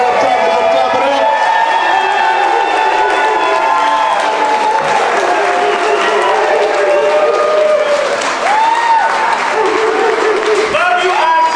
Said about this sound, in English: Clap it up, clap it up, clap it up, clap it up, clap it up.